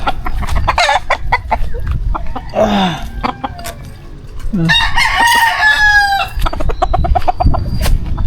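Chickens cluck close by in short bursts while a rooster crows loudly twice, its drawn-out calls rising over the busy, scratchy farmyard noise.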